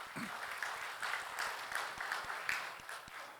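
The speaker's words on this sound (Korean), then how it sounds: "여러분들 박수 한번 보내주시기 바랍니다." Audience applause at a workplace safety and industrial accident prevention talk concert in an auditorium, a moderate, somewhat distant patter of many hands clapping steadily for the whole stretch.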